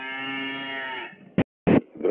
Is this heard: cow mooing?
yes